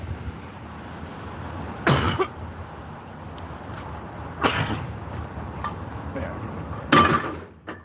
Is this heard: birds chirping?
no